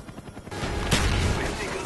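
Gunfire in Call of Duty Black Ops multiplayer: a dense, loud burst of game weapon fire and a booming impact that swells midway and keeps rumbling to the end.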